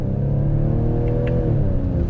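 A 2021 Ford Edge ST SUV engine drones steadily and climbs in pitch as it accelerates on throttle, a close, continuous rumble with no voices.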